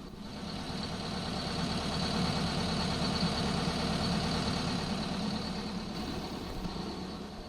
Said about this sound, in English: This is the sound of a veggie-powered school bus